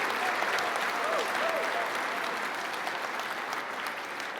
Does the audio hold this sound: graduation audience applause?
yes